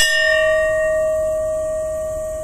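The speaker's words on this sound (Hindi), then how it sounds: "ये जो जो घंटी की जो ध्वनि है, ये ओम शब्द का उच्चारण कर रहा है, तो मैं इसको बजाता हूँ" A bell struck once rings out with a clear sustained tone and bright overtones, slowly decaying, close and alone with no voices.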